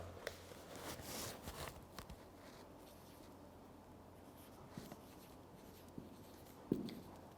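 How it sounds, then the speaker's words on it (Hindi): Marker or chalk strokes scratch across a classroom board while a definition is written out, a run of soft scraping taps with short pauses between words, close and fairly quiet with no talking. "डेफिनेशन मैं ये लिख देता हूँ"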